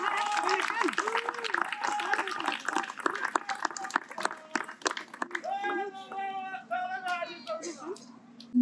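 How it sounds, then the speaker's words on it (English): A crowd claps rapidly while voices call out and chant over the applause for the Beqa firewalkers in Fiji, which continues throughout. "let us give a big round of applause to the firewalkers of Beqa"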